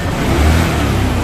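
A Honda Vario 110 motorbike engine running with the battery's negative terminal disconnected, a loud, steady close-up drone with no break.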